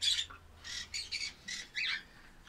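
Pet birds in a caged setup give a run of about seven sharp, harsh squawks in quick bursts, close and loud over a quiet background.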